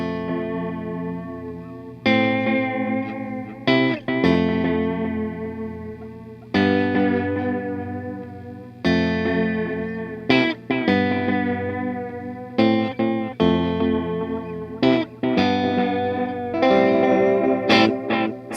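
Electric guitar played through a Fulltone Fulldrive 2 MOSFET overdrive pedal with delay and reverb, ringing sustained chords and melodic phrases in several bursts with echoing tails, loud and close with no talking.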